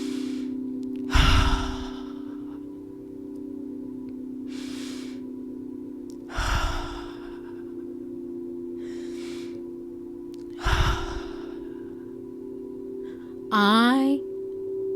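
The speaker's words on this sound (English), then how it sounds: "Just keep breathing." Deep breathing in a guided breathwork exercise: four slow, audible inhale-exhale cycles spaced several seconds apart, close and breathy, over a low steady background hum, ending with a short rising vocal sound.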